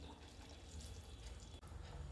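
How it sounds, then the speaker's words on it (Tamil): Water poured into a cooking pot while making a tamarind kara kulambu with ground coconut paste, a continuous splashing trickle, close and fairly quiet, with a brief break near the end. "அதில் கொஞ்சம் தண்ணி ஊற்றி கழுவி ஊற்றிடலாம்"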